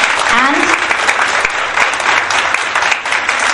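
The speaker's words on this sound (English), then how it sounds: "give a great round of applause" Workshop participants at a Montessori teachers' training give a loud round of applause throughout, with a dense wash of clapping and a brief voice rising over it near the start.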